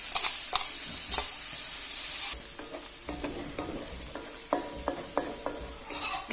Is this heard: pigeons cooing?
no